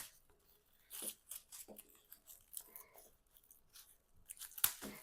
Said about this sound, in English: let me just go through and cut all my bulbs off.